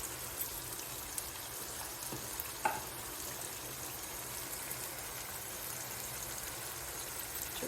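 Food fries in oil in a pan for a soya chunk curry, a soft, even sizzle with faint stirring clicks and one brief scrape near the middle.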